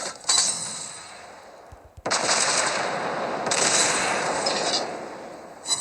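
Secondary guns of the German battlecruiser Prinz Eitel Friedrich fire in World of Warships Blitz, giving a short burst, a pause, then a long sustained roar of rapid shots that swells and fades.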